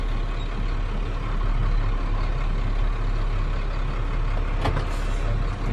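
A township snow plow truck idles and creeps into position to hook up its plow: a steady, close diesel rumble with a brief hiss or clank near the end.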